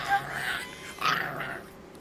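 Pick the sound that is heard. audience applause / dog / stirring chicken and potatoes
dog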